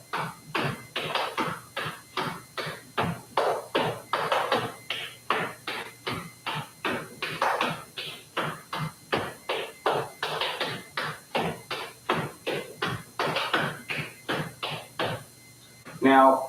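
Appalachian flatfooting dance steps, a continuous ball-step-chug pattern, beat on a floor in a steady rapid rhythm of dozens of crisp percussive foot strikes, close and sustained throughout, with a brief louder clatter at the end.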